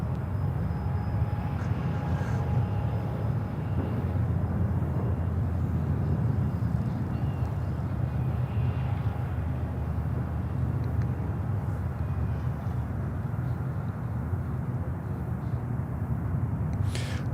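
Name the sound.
Embraer 135 aircraft at Charlotte airport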